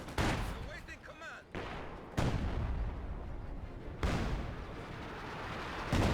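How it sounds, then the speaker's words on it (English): A 120mm mortar fires in the Company of Heroes 2 strategy game: four heavy booming blasts land about two seconds apart, each with a long rumbling tail, while a voice talks over the battle. "This 120mm mortar will help claim the area around the city."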